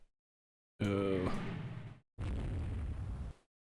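In the Rule the Waves 3 naval game, a shell strikes a warship's own gun turret, heard as two loud, close explosive bursts, the first with a ringing metallic tone, separated by a short gap, no talk over them.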